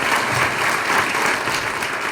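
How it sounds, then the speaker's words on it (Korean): An audience at a Korean political event for Seongnam mayor Lee Jae-myung claps in a dense, sustained burst of applause filling the room. "박수 한번 주십시오"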